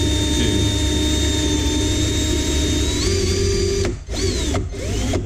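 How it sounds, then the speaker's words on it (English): Power drill boring slowly into an intake tube on a Shelby GT350, a loud steady high whine that holds, shifts pitch and then stops briefly twice near the end, with no talk. "I'm going to slowly drill into the tube"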